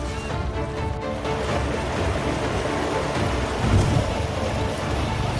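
Heavy monsoon rain pours down steadily and loudly in flooded rural Bihar, a dense continuous roar with a low rumble beneath and no talking.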